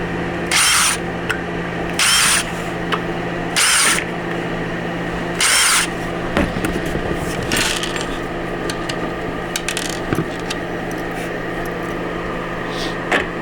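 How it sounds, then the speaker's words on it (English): A cordless power drill driving screws whirs in four short bursts, each about half a second, followed by clattering and handling noises with a steady background hum. "just use a regular old drill, whatever's cheap and easy to get"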